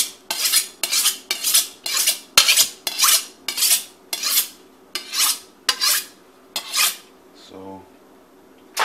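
Kitchen knife sharpened with repeated backstrokes while preparing chorizo: about eleven crisp, rhythmic metallic scrapes, each a short rasping swipe with brief gaps, close and fairly loud, followed by a faint clink near the end.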